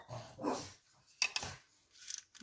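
Neighbour's dogs barking in short bursts at moderate distance, a few separate yelps and barks spread across a couple of seconds with quiet gaps between.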